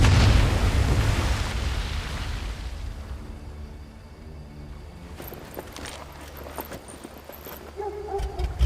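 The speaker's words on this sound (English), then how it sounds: "That explosion got the attention of all the German patrols in the area." Explosion in the WWII shooter game Medal of Honor Above and Beyond, a loud booming blast that rolls and fades over several seconds into quieter crackling debris and ambience.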